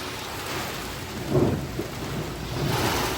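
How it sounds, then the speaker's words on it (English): Heavy rain pours steadily with a low rumble of thunder swelling midway, a continuous wash of loud, close downpour with no voices. "How nice that it started fucking raining when I wanted to drift it"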